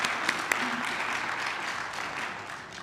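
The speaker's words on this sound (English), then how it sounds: "Oh, round of applause, yes." A modest audience applauds at an MLK Day human rights celebration hosted by a city commission, soft, fairly distant clapping with a couple of sharper claps near the start, steady and quiet for the whole stretch.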